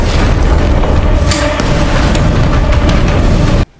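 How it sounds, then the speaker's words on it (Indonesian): An explosion tears through a house and sets it burning fiercely in a horror film scene: a loud, dense boom-like roar sustains for several seconds, then cuts off abruptly into near silence. "tiba-tiba ledakan terjadi di rumah itu yang membuat kondisi rumah terbakar hebat"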